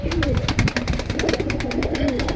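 Pigeons cooing steadily in a loft or market pen where birds are being sold, a dense, continuous chorus of soft throaty coos with rhythmic pulses, close and fairly loud, with no one talking.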